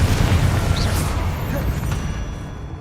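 A Confringo fire spell blasts off in Hogwarts Legacy, a loud, boomy explosive burst right at the start that rumbles on, with the low, dense roar slowly tapering off across the moment.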